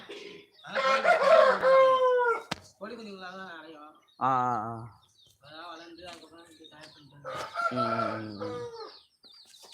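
Chickens and small chicks cluck and a rooster-like call rises amid close conversation, with short bird calls breaking between the voices.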